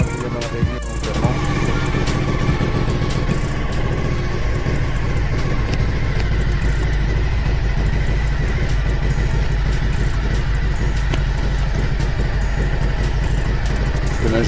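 A Suzuki SV1000S V-twin motorcycle engine idles steadily and loudly up close after being reassembled, its low rumble continuous throughout with faint background sounds.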